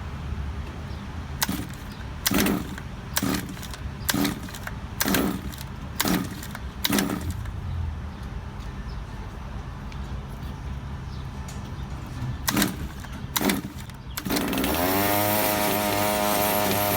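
A 1/5 scale gas engine, set up on a pickup truck, is pulled over several times in quick sharp bursts, then catches and settles into a steady, buzzing idle that continues loudly to the end.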